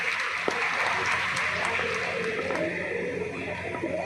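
An indoor audience at a heart-health awareness event held by a hospital claps steadily for several seconds, a dense even wash of applause filling the hall.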